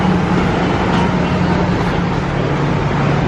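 An old train at Disney's Animal Kingdom gives a loud, continuous rumble with a low steady hum, heard from close by with no talking over it.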